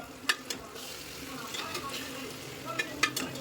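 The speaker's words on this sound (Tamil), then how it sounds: "தக்காளி வதங்கிட்டு இருக்கு" Chopped tomatoes sauté in a hot pan of oil for chicken biryani, giving a steady soft sizzle with occasional scraping stirs and clinks of a spoon against the pan.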